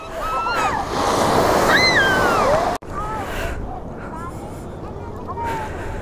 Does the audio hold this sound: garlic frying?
no